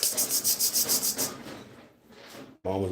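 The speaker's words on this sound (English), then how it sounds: "Mama's over there eating her automatic feeder." A dog crunching and scraping kibble out of an automatic feeder, with a rapid rhythmic rubbing rattle, then a quieter stretch, then a sudden louder tonal burst near the end.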